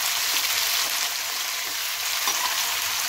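Chopped onions frying over a medium flame in a pan for kadhi made with maize flour, a steady close hiss and crackle that runs throughout with no talking.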